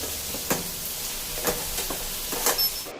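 A spoon stirs cucumber pieces into sambar in a pot, giving a soft bubbling hiss and a few distinct scrapes and clanks spaced about a second apart.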